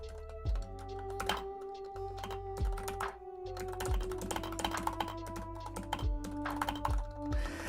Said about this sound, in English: I hit my keyboard with a grudge.